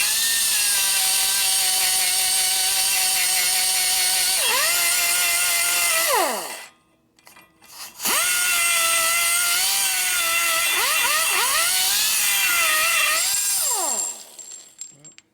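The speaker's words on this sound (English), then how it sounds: "But we're doing this the old-fashioned way. We're going to grind it out." A high-speed grinder whines loudly while grinding out a plugged valve guide hole in a 1974 Harley-Davidson 74ci Shovelhead cylinder head, its pitch sagging under load, cutting out briefly, then spinning back up.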